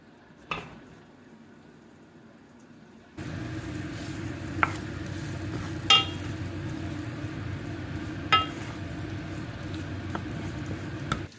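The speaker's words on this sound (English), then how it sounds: "So it's just frying up at the moment. Sizzling away" A few seconds of near silence, then paneer in a frying pan bursts into a loud, steady sizzle with occasional sharp pops and spatters.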